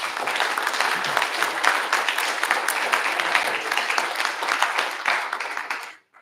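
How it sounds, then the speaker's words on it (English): Dense, steady applause from an audience at a real estate investing talk, loud and continuous for about six seconds before cutting off abruptly. "Can we get a big round of applause for these guys?"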